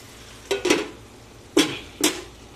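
Meat cooking in a pan on a home stove: a few quick scraping stir strokes, two close together then two more, over a faint steady sizzle.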